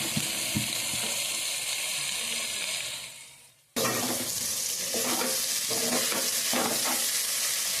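Ivy gourd (tindora) fries in a pan with a steady hiss and crackle, fading briefly before resuming with stirring scrapes over the sizzle, close and moderately loud, no voices.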